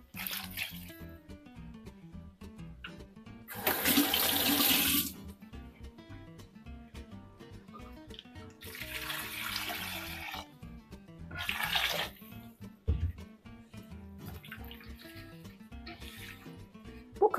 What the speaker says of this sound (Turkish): En son şöyle üzerine suyumuzu ilave ediyorum.